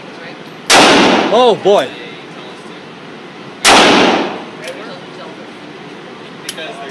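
Two loud, close gunshots from a Ruger Vaquero .45 Colt revolver boom about three seconds apart, with a voice speaking briefly between them.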